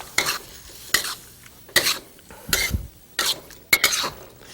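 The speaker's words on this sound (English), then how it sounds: "give it a final stir" Cream being stirred into a cooking breakfast dish with pepper: about six distinct scraping stirs of a spoon against the pan in an uneven rhythm, close and moderately loud, with a faint sizzle between strokes and no talk.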